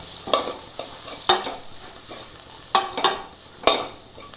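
A spoon stirring coriander powder, garam masala and pepper in a pan over a low flame: intermittent scraping clinks against the metal in an irregular rhythm, over a soft, steady sizzle, close and with no talk.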